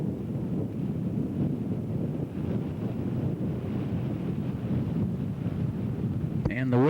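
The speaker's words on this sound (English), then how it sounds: "And the wind is blowing." Wind gusts across the open airfield at a scale aircraft show, a steady broadband rushing and buffeting against the microphone throughout, with a brief tonal sound at the very end.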